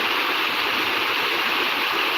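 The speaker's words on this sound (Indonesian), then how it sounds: "tapi air masih meluap, air sungai Walana." The Walanae river in Soppeng, South Sulawesi, overflows after a flood. Its water rushes in a loud, steady, dense roar that fills the clip without any break or talk.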